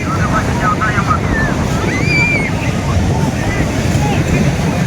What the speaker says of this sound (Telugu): చూడండి ఎంత పెద్ద పెద్ద పెద్ద అలలు వస్తున్నాయప్ప.